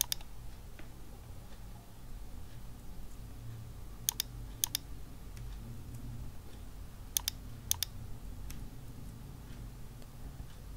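Keys tap on a computer keyboard as class names are entered into school software, sparse sharp clicks in small pairs over a low steady room hum.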